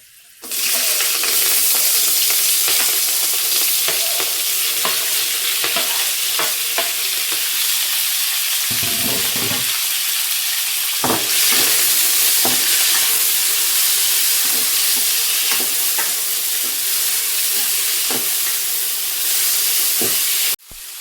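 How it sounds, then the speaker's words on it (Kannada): Chopped onion, green chilli and tomato frying in a pan for an Indian-style egg curry, giving a loud, steady sizzle with occasional stirring clinks and scrapes throughout. "ಈರುಳ್ಳಿ, ಹಸಿಮೆಣಸಿನ್ಕಾಯಿ, ಟೊಮಟೊ ಕೊಯ್ದು ಇಟ್ಕೊಂಡಿದ್ನಲ್ವ, ಇದಕ್ಕೆ ಹಾಕ್ಕೊತೀನಿ"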